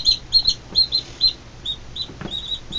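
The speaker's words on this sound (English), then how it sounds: "And they sure like to make a lot of noise." Newly hatched chicks and a duckling peep in high, thin chirps, several short calls in quick irregular bursts close by, with a faint background murmur underneath.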